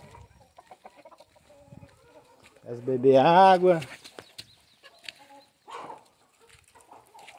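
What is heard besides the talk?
chickens and roosters in a henhouse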